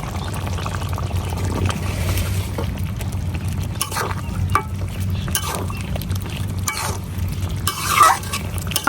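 Broth poured into a pan of spiced chicken pieces, a steady low wash of liquid and stirring with a few scrapes and clinks of utensil on pan, close and fairly loud.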